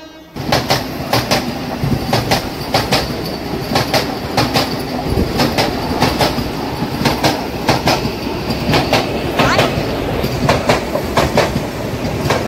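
The Tirupati–Puri Express, train 17480, rolls along the rails with a loud steady rumble and a rhythmic clickety-clack of wheels over rail joints, heard from close by for the whole stretch.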